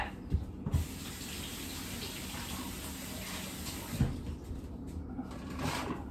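Tap water runs steadily into a sink as egg-covered hands are washed in a home kitchen, a soft continuous rush with a few faint clunks near the start and middle.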